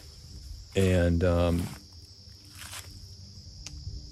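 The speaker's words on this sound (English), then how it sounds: "I can hear the crickets already." Crickets chirp at a quiet campsite along the Appalachian Trail, a steady faint insect trill in the background while a voice briefly speaks over it.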